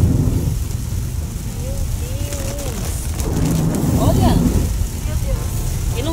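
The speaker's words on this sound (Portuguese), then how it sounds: "Olha, gente, tá chovendo muito." Heavy rain pours down around a Tesla car driving through a storm, a dense loud roar of rain with low rumbling throughout, steady and close, while people talk excitedly over it.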